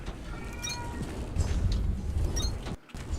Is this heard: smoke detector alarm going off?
no